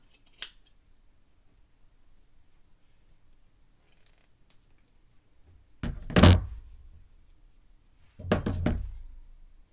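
Fabric scissors cut through sweatpants in two bursts of crisp snipping and crunching close by, one near the middle and one near the end, with a faint click early on and quiet between.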